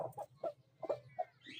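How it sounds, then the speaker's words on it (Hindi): Several roosters cluck in short, close bursts, about six clucks spread over under two seconds, with a soft steady farmyard hum underneath and a brief higher chirp at the end. "तीनों मुर्गों का शौक करवाऊँगा आपको"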